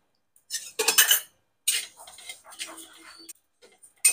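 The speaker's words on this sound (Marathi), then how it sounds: "शेपा भाजून घेऊ." Dill seeds dry-roasting in a pan for a homemade digestive mukhwas mix, stirred with a utensil that gives close, intermittent bursts of scraping and light metallic clinking separated by short pauses.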